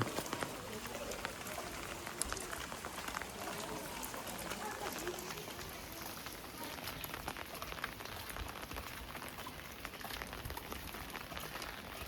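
Rain falls steadily in monsoon-like weather, a continuous broad hiss of drops on surfaces that stays even and moderately loud throughout.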